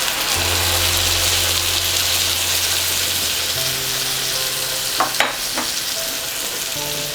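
Tomato paste added to browned roasted garlic in a hot pan, giving a loud continuous sizzle with a steady low hum underneath and a couple of sharp clatters near the end, no voices.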